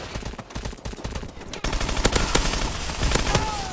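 Rapid pistol gunfire from Call of Duty: Advanced Warfare, gun game mode, with dense repeated shots and explosive bursts layered over constant game noise throughout.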